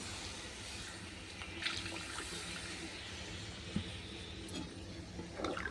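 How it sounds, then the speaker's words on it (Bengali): Water pours into a pot of taro and beef curry on a home stove, a steady faint splashing wash with a few small clunks of the pot, no voices. "এবার দেবো পানি"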